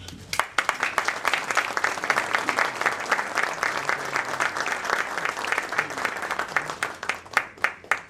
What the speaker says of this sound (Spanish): Le pedimos un aplauso.